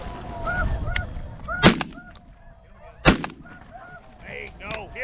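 Two loud shotgun blasts a second or so apart ring out during a snow goose hunt over decoys, with many geese honking and calling throughout before and after the shots.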